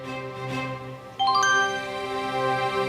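A short, bright chime rings out as a message notification on a phone, a few clear ringing tones stacking up and holding, loud and alone with no talk.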